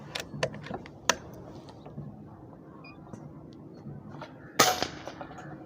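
A Seneca Aspen PCP air rifle fires a few sharp shots, with one louder crack near the end standing out over faint mechanical clicks and a quiet room.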